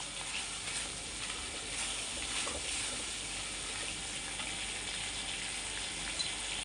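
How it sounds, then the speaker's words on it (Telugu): Ajwain seeds roasting in oil in a pan for a chickpea chaat, a soft continuous sizzle and crackle, steady and fairly quiet throughout with no talk. "వామ్ కూడా కొంచెం వేగాలి చక్కగా కంగారు పడకుండా నిదానంగా చేసుకోవాలి"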